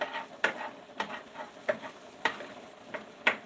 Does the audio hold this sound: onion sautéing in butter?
yes